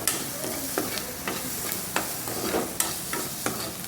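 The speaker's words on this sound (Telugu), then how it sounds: "ఇప్పుడు ఒక కళాయి పెట్టుకొని ఒక ఉల్లిపాయ కట్ చేసుకొని ఫ్రై చేసుకోవాలండి." Sliced onion fries in a little oil in a kadai, a continuous sizzle broken by repeated sharp spatula scrapes and stirs in a quick, uneven rhythm.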